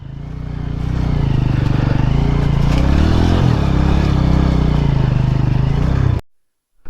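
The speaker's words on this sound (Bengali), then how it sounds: "আপনারা কমেন্ট কিন্তু অবশ্যই করবেন যে আপনারা এরকম রাস্তা থেকে কি কখনো বাইক চালিয়েছেন।" A motorcycle rides a rough, rugged mountain road on the way to Raika Hill, its engine droning loud and steady with rattling clatter for about six seconds before cutting off abruptly into near silence.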